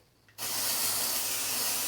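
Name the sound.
dry shampoo sprayed onto hair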